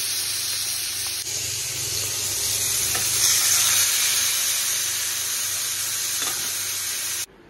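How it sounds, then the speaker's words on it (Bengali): Fish frying in hot oil seasoned with chilli powder, a loud steady sizzle and hiss that holds for about seven seconds and then cuts off abruptly, with no voices. "তেল গরম হয়ে গেছে, এখানে মাছগুলো দিয়ে দেবো।"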